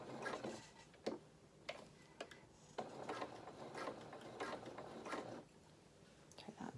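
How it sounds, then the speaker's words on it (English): A sewing machine stitching along the edge of fabric for a small waistcoat pocket, heard as a faint, quiet run of mechanical ticking and whirring with brief pauses and small clicks, close by. "now I'm sewing along, and it's going to catch just that down right on the edge"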